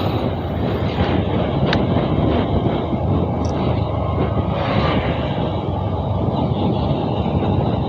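A train rolls past close by with a loud, continuous broadband roar and rumble that holds steady throughout, with no talking.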